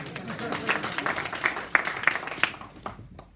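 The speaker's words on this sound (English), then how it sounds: "Can you give him a loud round of applause?" Applause from an audience at a sports club's annual awards ceremony and kit launch: scattered, uneven clapping at modest volume that swells a little and then thins out and stops near the end.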